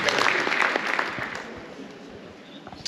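Audience applause at the Zimbabwe UK Business Expo in Birmingham, a burst of clapping that is loudest at the start and then thins and fades over a few seconds.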